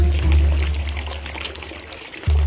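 Water pouring from a kitchen tap, a steady trickling and splashing stream that runs continuously and fairly loud, alone with no talk.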